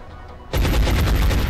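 Gunfire from the video game XCOM Enemy Within breaks out after a quiet half second as a loud, rapid burst of shots, pulsing in a fast, even rhythm until the end.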